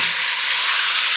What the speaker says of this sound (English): we're just going to seal that meat